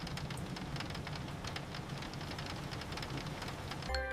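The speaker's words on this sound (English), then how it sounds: "The rain is very loud today." Steady, dense rain patters and hisses continuously, fairly loud and close, with a brief clatter right at the end.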